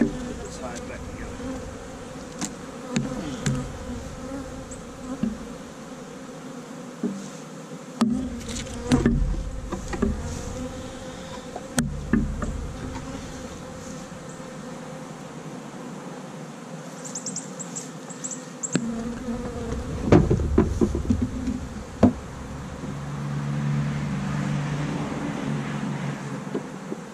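Honeybees buzz around an opened hive in an apiary in a steady, close, droning hum. Some wind noise and occasional knocks and handling sounds come through, with brief bits of talk.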